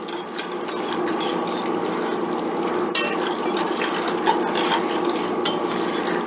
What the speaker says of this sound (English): we're going to dump our tomatoes in there. Our diced tomatoes.